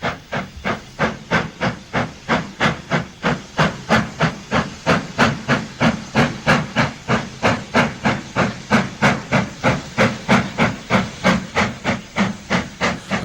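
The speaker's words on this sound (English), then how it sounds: "The next train up is another very substantial freight, and the 8F at the front is clearly struggling." Steam locomotives, an 8F at the front and a single banker, haul a very heavy freight up the Bromsgrove incline, loud sharp exhaust beats pounding in a fast regular rhythm with a hissing steam wash.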